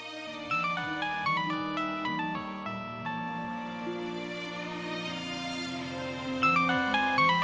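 A phone ringtone plays in a Pakistani TV drama scene, a bright electronic melody of repeating note patterns that carries on steadily at moderate volume with no voices over it.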